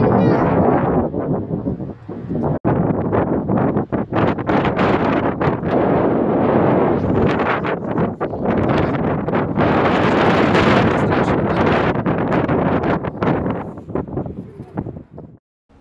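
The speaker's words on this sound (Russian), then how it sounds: "Смотри, какой ветер дует." Strong wind blasts steadily across the microphone, roaring and buffeting without pause, easing off only at the very end.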